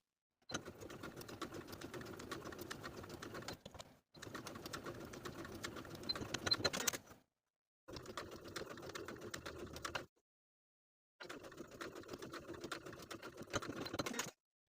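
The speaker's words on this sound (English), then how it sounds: "stitching from the top to the point and backstitch" A sewing machine stitches a garment facing and backstitches at the point, running in four steady bursts of rapid mechanical chatter separated by short silent pauses.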